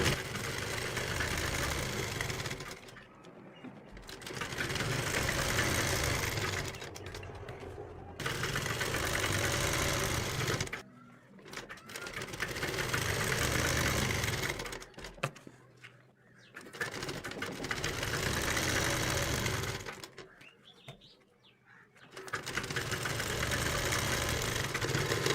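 A sewing machine runs close by as it stitches elastic down the center of a salwar. The motor whirs in long steady bursts, with short pauses between runs and no talking.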